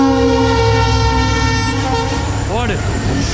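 A goods train rolls past near a waterfall trekking route, with steady loud rumbling and clattering of wagons throughout, broad wind-like roar, and a brief tonal squeal or horn-like note near the end; a voice can be heard briefly.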